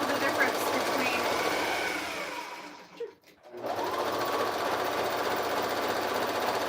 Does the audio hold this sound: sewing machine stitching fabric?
yes